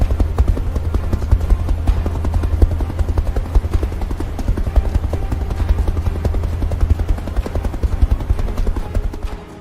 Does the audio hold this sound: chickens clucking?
no